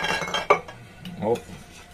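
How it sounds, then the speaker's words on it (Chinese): A spicy cold okra salad dressed with light soy sauce and black vinegar being mixed, heard as close clinks and scrapes of a utensil against a dish, with one sharp tap and softer stirring after it. "咁啊就我嚟啦，撈一撈個秋葵啦。"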